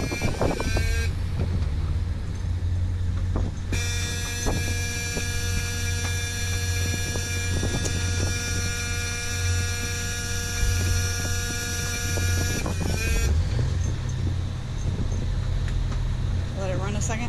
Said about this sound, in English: Time to fire up the starboard engine.